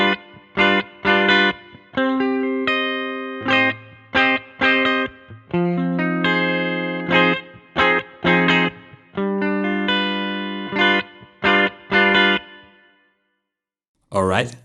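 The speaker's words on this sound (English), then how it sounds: "So we're gonna start with the guitar track. So let's just take a listen to this without any compression." An electric guitar track carries only EQ and subtle reverb, with no compression. Loud, bright chords and notes come in short repeated phrases separated by brief gaps, and a lone final note rings out after a pause.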